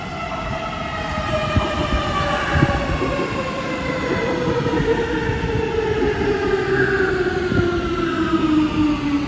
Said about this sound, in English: this is one of the metro stations just now